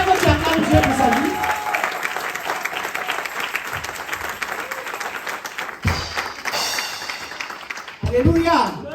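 A church congregation bursts into loud, sustained applause acclaiming God for the prophetess Esther, steady clapping filling the room with crowd voices mixed in and a fresh swell near the end.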